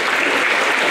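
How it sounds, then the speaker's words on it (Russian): A hall full of people breaks into dense, even applause at a year-end meeting, the many hands merging into a loud, steady wash. "наградим их аплодисментами нашими"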